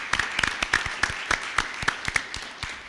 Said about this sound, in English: So if we could give that group a round of applause.